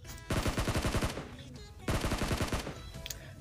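Automatic gunfire in the mobile battle-royale game PUBG Mobile: two rapid bursts of about ten shots each, loud and close, separated by a short pause.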